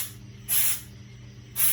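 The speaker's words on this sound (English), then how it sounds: "When you spray, you want to be like a foot and a half away." Two short bursts of a spray can misting paint onto a car from about a foot and a half away, each a sharp hiss separated by a quiet pause.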